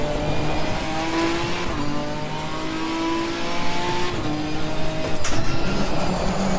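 A Ginetta G55 GT4 race car engine in Assetto Corsa Competizione revs loudly and steadily, pitch climbing and dropping through gear changes, with a brief tyre scrub near the end.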